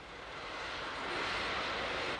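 Engine roar of a Kuwaiti passenger airliner, a steady broadband rush that swells slightly louder midway and holds near and alone with no talk.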